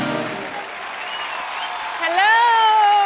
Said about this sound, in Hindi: जोरदार तालियां एक बार कनिका कपूर के लिए